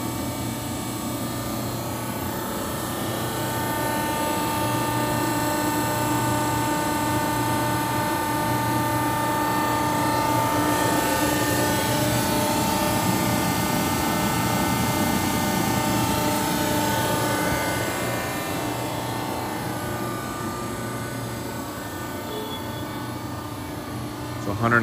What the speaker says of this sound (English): 130 ton by 16 foot bed overall. Accurpress hydraulic press brake.